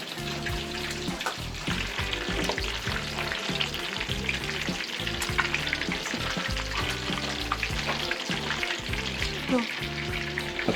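Sandwiches browning in a frying pan, a steady dense sizzle with crackling pops throughout, close and continuous, no voices.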